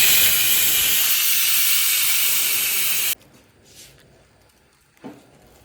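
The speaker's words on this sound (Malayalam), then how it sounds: "എന്നിട്ടിത് നമുക്ക് കുക്കറിൽ 1 വിസിൽ വരുന്നത് വേവിച്ചെടുക്കാം." A pressure cooker whistles, releasing a loud, steady hiss of steam for about three seconds before it cuts off abruptly, leaving quiet kitchen noise with a couple of faint clinks. It was cooking for one whistle while chicken fried rice was being prepared.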